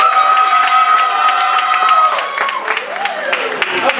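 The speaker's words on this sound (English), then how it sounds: "clap for Becca if you want Becca to be the superhero" An improv comedy crowd claps and cheers to vote for a performer, with applause under prominent shouting and cheering voices that taper off partway through.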